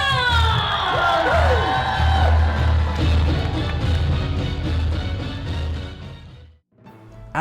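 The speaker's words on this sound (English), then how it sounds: "keep that round of applause going for Pluto, Goofy, Donald, and not forgetting Mickey and Minnie" A crowd aboard a Disney cruise ship leaving Port Canaveral cheers, whoops and applauds for Pluto, Goofy, Donald, Mickey and Minnie. Loud, continuous shouting and clapping runs on, with a brief tonal wail near the start, before cutting off abruptly.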